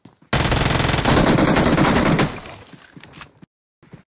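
Rapid automatic gunfire in the video game PUBG / BGMI, a dense burst of close shots lasting about two seconds, then trailing off into scattered quieter shots and scraping before silence.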